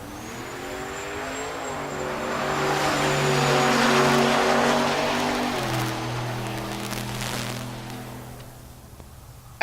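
Drag strip pass at Tulsa Raceway Park pitting an International truck against a Toyota Supra: engine roar swells over several seconds with shifting tones, peaking mid-run then easing off, no talk.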